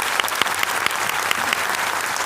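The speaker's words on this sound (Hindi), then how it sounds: "मैं चाहूंगा एक बार जोरदार तालियां मिस्टर गौतम वाली सर के लिए" An audience claps for a managing director at a network-marketing event, producing dense, steady applause throughout, close and loud, with a few sharper individual claps standing out.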